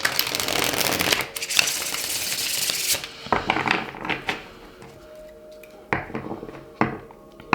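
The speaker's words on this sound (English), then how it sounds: "I'm going to shuffle the cards off camera because it takes a long time" A deck of reading cards shuffled close up: dense riffling and slapping at first, then sparser card flicks, taps and soft thuds as the shuffling slows, with no voices.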